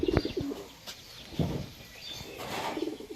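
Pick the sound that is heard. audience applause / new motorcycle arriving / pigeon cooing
pigeon cooing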